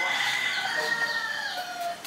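A rooster crows loudly and close by in a single drawn-out call that wavers and trails off, heard alone without talk.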